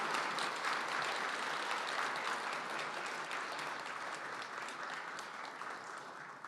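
A crowd applauds steadily, dense clapping that holds at an even level before slowly tapering near the end.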